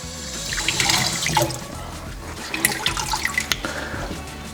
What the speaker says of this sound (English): I like to flush it with water to remove all types of chemicals that are inside.